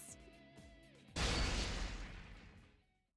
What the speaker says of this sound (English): a rupturing sound like a small explosion shakes the entire room